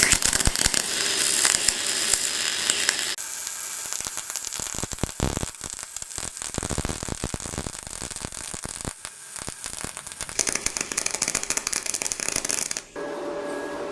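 MIG welding with an SSimder SD 4050 Pro 10-in-1 welder, a steady crackling sizzle of the arc running in bursts with brief pauses, close and fairly loud, no voices.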